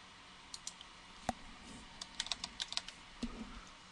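Keys on a computer keyboard click faintly in a quiet room as text is typed, with scattered single taps followed by a quicker burst of several keystrokes in a row.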